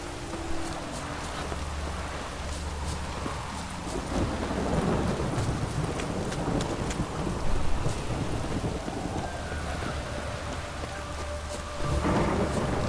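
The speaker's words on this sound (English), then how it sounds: "Rain, and here it is." Steady rain and rolling thunder in The Witcher video game on Xbox One, a continuous wash of rainfall with deep rumbles swelling midway and again near the end.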